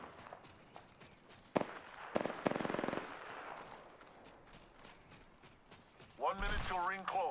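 Video game gunfire in Apex Legends crackles in short bursts of rapid shots amid ambient game sounds, moderately loud, followed by a voice speaking near the end.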